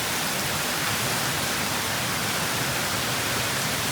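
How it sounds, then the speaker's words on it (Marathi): Heavy rain pours down in a storm with strong wind, a dense, continuous roaring hiss that stays loud and unbroken throughout with no voices. "पाऊस खूप आहे, वारा पण खूप सुटलाय."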